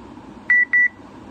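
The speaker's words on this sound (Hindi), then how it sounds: "जैसे ही टू की आवाज़ आ गई, इसका मतलब ये लॉगिन हो जाएगी" A fertiliser-sale POS machine gives two short, identical electronic login beeps in quick succession, clear and close against a quiet background.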